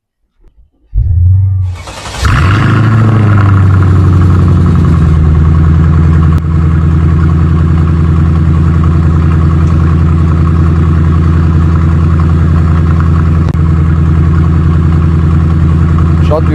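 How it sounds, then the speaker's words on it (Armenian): A Mercedes E55 AMG Kompressor with a supercharged V8 cranks and fires with a sharp revving burst, then settles into a loud, deep, steady idle that runs close up to the end. "Շատ յուրահատուկ V8-ի ձեն ունի"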